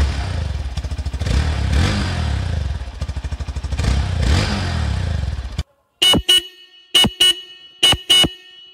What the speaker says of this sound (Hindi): बाइक का exhaust sound and horn sound